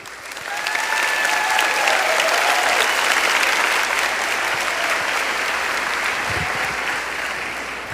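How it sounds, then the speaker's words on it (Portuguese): A church congregation applauds steadily, a dense swell of clapping that rises quickly and holds for several seconds before easing slightly, filling the hall. "Pode aplaudir."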